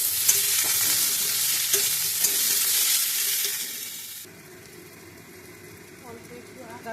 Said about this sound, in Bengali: এবার একটা লঙ্কা ফোড়ন দিয়েছি। এবার এই সবজিগুলো তুলে দেবো।